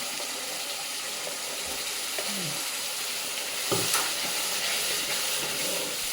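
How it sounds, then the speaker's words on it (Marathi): A thick onion and coconut paste fries loudly in a pan, a constant sizzle broken by scraping stirs and occasional soft clatters. "छानपैकी भाजून घ्यायचं ते वाटण"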